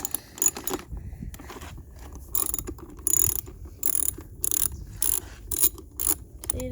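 Air filter fastener being loosened on a dirt bike, giving repeated quiet ratcheting clicks in short bursts with brief pauses between them, close up.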